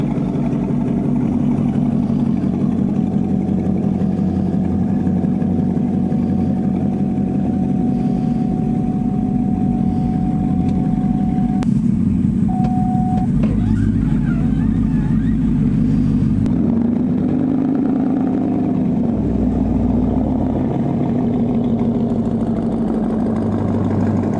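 A squatted pickup truck's engine rumbles steadily while driving, a loud low drone throughout with a brief tonal whine midway and a shift in engine note near the end.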